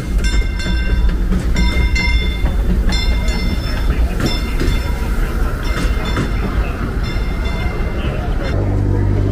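A train at Disneyland rolls past close by with a continuous rumbling, clattering rush that fills the whole stretch, accompanied by bright metallic squeals and clicks.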